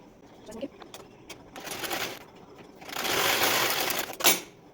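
A sewing machine stitches the hem of a size 30 blouse in short runs, its fast rattling hum rising and stopping beside the work, with someone speaking quietly over it.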